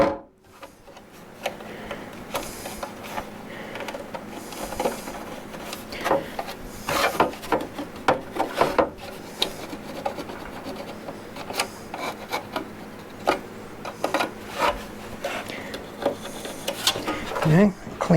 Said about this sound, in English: I'm going to get a razor blade and cut these burrs off the backside here.